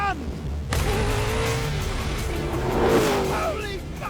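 An off-road vehicle on aggressive paddle-style tyres tears away across sand, its engine note surging loudly into a sustained roar that rises and falls over a few seconds, close by and dominant.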